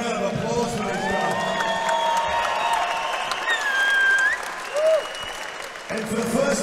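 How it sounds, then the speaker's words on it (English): A crowd at a Thai boxing event applauds and cheers for a fighter after a bout, a continuous roar of clapping with a few whoops while an announcer's amplified voice rings over it. "How about a big round of applause for this guy?"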